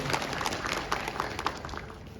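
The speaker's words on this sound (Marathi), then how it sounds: "त्यांच्यासाठी थोडं टाळ्या वाजून द्यावी एवढी माझी विनंती आहे." An audience at a Republic Day programme applauds blood donation volunteers, a moderate, steady patter of many hands with a few sharper individual claps standing out, no speech on top.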